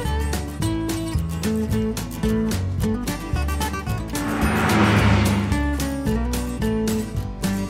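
A pink toy melody car plays a bright, repeating electronic tune with a steady beat, loud and close, with a brief swell of hiss midway through.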